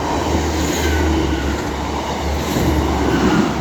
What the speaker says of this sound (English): The next train to be coming through will be a pairing of Class 150s running from Headbolt Lane to Blackburn.